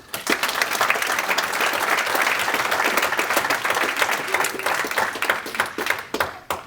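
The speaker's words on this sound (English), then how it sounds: "a round of applause for yourselves" A crowd at a high school football signing day in Dubuque gives itself a loud, sustained round of applause that thins out toward the end.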